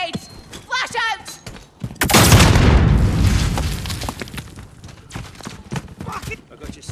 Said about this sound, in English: Throwing grenades. Flash out.